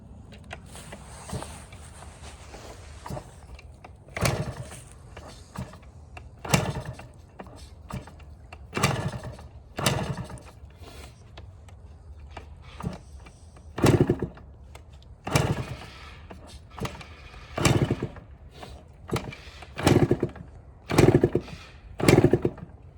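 A two-stroke Yamaha YZ125 dirt bike is kick-started cold in two kicks and revs in repeated bursts, its buzzing rising and falling across the clip.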